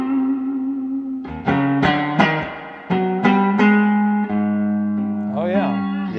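A 1962 Fender Stratocaster electric guitar played through effects, with a run of picked notes and chords ringing close and loud, bright, slightly distorted and echoing, ending in a bent, wavering phrase.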